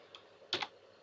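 A few soft keystrokes on a computer keyboard: one faint tap followed by a sharper double click, quiet and close in an otherwise still room.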